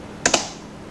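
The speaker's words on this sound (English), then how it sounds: "typing again, go space env" Two quick taps on a computer keyboard, crisp and close, followed by quiet room tone, no voices.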